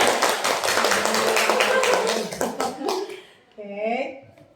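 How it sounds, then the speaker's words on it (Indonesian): A group clapping together in a quick, even rhythm for a few seconds during a classroom group session, then fading out as voices begin speaking in Indonesian. "Tepuk tangan dulu."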